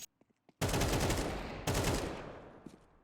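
Gunfire in Counter-Strike 2, two loud sustained bursts of rapid shots close by, the second starting partway through, with a few faint clicks before them and no talk.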